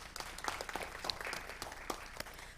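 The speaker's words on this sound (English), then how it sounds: "Please give him a round of applause" A small gathering at a city council meeting gives sparse, fairly quiet applause, a few distinct claps scattered through a soft, thin patter.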